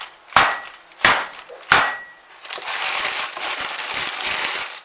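A cake pan of cherry blondie batter dropped onto a kitchen counter: three sharp, loud thuds about two-thirds of a second apart, then a longer stretch of rustling, scraping handling noise.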